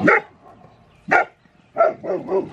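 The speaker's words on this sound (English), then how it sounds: "my dogs are gonna start barking because there's somebody walking" Dogs bark close by at a home garden, several sharp loud barks spaced apart, then a quick run of two or three more barks, with no talk.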